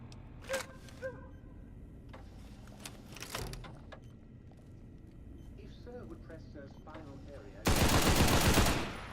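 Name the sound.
minigun firing in video game Fallout New Vegas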